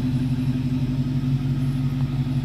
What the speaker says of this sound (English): you hear that exhaust